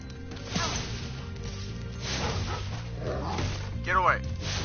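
Dogs in the video game Spyro the Dragon, yipping and barking in short bursts with a whimpering whine near the end, over a low game background and voices talking.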